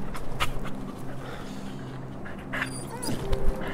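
A dog pants and whimpers close by, with quick breathy panting and a few thin whines over a busy outdoor background.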